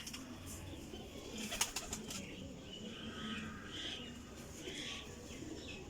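Teddy pigeons in a loft coo softly and flap their wings, with a few sharp wing claps and faint chirps scattered over a steady, distant murmur and no speech.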